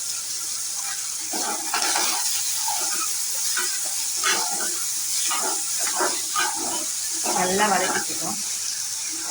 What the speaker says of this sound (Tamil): கடுகு பொரியும் போதே கடலைப்பயிறு, கடலைப்பயிரெலாம் பொரிஞ்சதும் எடுத்து வச்சுருக்கிற வெங்காயம், பச்சை மிளகாய் எல்லாத்தையுமே போட்டுக்கலாம்